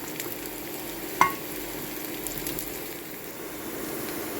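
Koftas (dhoka) frying in oil in a kadai, a soft steady sizzle with one brief sharp click, faint and close with no talking.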